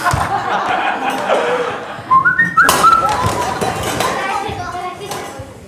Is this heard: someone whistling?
yes